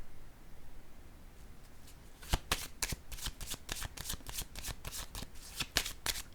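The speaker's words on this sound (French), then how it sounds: "Je vais déposer une carte sur la sorcière." Playing cards are handled and placed down on a table: a quiet stretch gives way to a quick series of crisp, close snaps and flicks in the second half.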